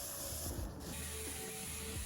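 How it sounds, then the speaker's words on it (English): A spray gun hisses steadily while laying down a coat of shellac-based primer, a continuous soft mid-distance spray that runs alone for about two seconds without pause. "So I only did one coat with the spray gun."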